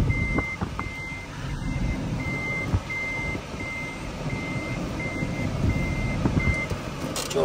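Steady reversing beeps from a vehicle backing into a parking spot at a car showroom, repeating evenly about twice a second over a continuous engine rumble and outdoor noise.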